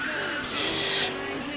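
A McCallie Roadster in GTA 2 drives with a steady engine hum and a bright tire squeal that swells through the middle of the brief stretch and then fades.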